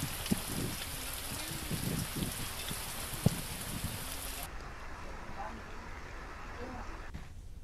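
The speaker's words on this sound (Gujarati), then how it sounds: "રાજુલા શહેરમાં વરસાદી ઝાપટું પડ્યું" Rain falls as a steady, fairly faint patter and wash, with low voices murmuring beneath it and the sound turning duller partway through.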